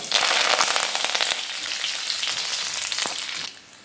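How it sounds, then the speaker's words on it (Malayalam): Cumin seeds and two sprigs of curry leaves hit hot oil already crackling with mustard seeds, giving a loud, dense sizzle with sharp popping crackles that fades near the end. "അതിലേക്ക് അര ടീസ്പൂൺ ചെറിയ ജീരകം ഇട്ട് കൊടുക്കാം ഒരു രണ്ട് തണ്ട് കറിവേപ്പില ഇട്ട് കൊടുക്കാം"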